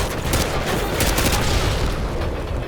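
Grenade explosions and gunfire in the Call of Duty Modern Warfare 2 video game, a dense, loud barrage of overlapping bursts and booms that runs without a break.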